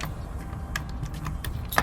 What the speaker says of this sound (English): The large key into the bottom lock, please.